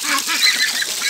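Pekin ducks give a short burst of nasal honking calls, close and fairly loud, overlapping in a brief cluster with no talking.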